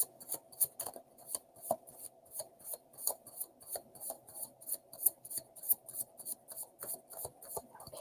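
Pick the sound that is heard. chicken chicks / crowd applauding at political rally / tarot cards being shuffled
tarot cards being shuffled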